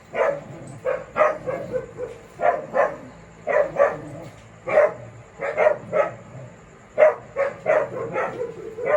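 Several dogs bark repeatedly in irregular bursts, somewhat distant, over a low background hum.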